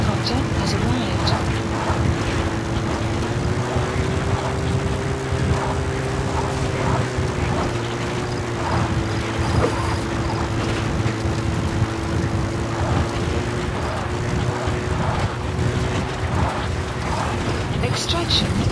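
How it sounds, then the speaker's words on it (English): Rotor and engine drone from a support helicopter arriving in Metal Gear Solid 5, a steady, loud, pulsing hum that lasts throughout, with game voices speaking over it. "Support helicopter has arrived."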